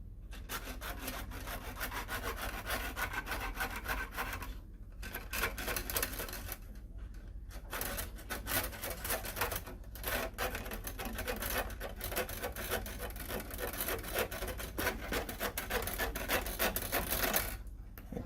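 The edge of a Dell Precision 7710 laptop keyboard is being cut with a small hand saw, giving a close, continuous rasping scrape in quick strokes with a few brief pauses, and no talking.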